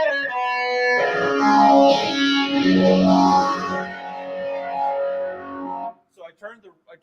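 Electric guitar played through a Keeley Super AT Mod Overdrive pedal with rate and depth turned down, giving sustained overdriven chords with a light modulation shimmer, loud and close for about six seconds before a few short, quiet plucked notes.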